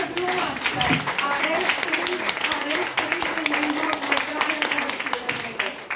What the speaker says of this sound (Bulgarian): Много аплодисменти заслужава Румяна.